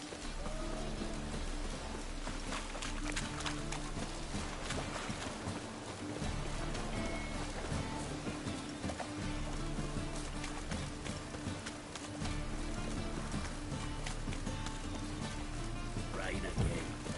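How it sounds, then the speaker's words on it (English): Steady rain in the video game The Witcher 3 patters and hisses across surfaces, a dense continuous wash of drops with a low hum underneath and occasional faint voices. "Rain again."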